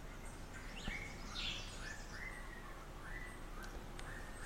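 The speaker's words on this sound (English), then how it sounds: "And the birds are here to sustain our search." Small birds chirp and whistle in a repeated series of short, bright calls, soft and somewhat distant, over a quiet background with no talking.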